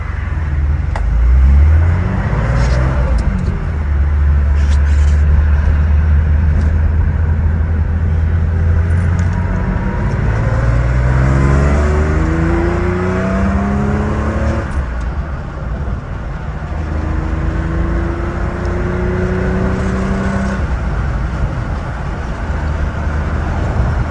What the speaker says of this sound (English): So the car runs and drives really well.